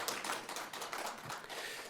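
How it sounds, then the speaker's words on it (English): An audience at a city anniversary celebration announcement in Frederick claps in a brief burst of scattered applause, fairly quiet and distant, lasting under two seconds. "Applause may be appropriate."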